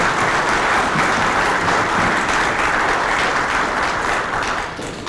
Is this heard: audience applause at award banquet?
yes